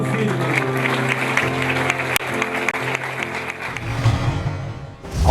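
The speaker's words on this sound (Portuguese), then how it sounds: "Salva de palmas para o Firmino Filho." A crowd claps for the politician Firmino Filho, a moderate wash of applause running under a continuous low hum and background voices, then swelling briefly at the very end.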